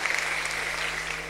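Church congregation applauding during an Indonesian sermon, a steady wash of clapping that holds at an even level across the whole short stretch, with no voice heard over it.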